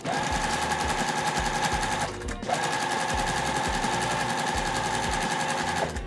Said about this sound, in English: So I'm gonna mark this, and we're gonna take it over to the sewing machine.